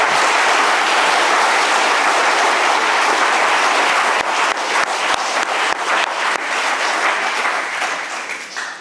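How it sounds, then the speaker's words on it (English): A conference audience at a scientific debate on mass extinctions applauds steadily and loudly for the whole stretch, a dense wash of clapping that thins slightly near the end. "now you can applaud them"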